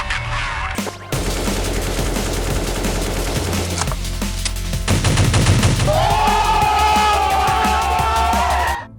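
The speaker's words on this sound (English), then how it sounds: "Watching RPK, Fragmary is back, he's just running around on A-bomb site on Inferno shooting people" Sustained automatic gunfire rattles nonstop in Counter-Strike on the Inferno map's A bombsite, loud and close, with brief breaks and shifts in tone as shooting continues.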